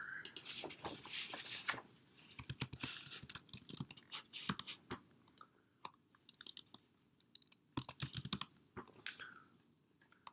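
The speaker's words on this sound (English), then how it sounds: "So let's type in some more." Someone types quietly on a computer keyboard, with irregular bursts of sharp clicks separated by brief pauses. There is no talking.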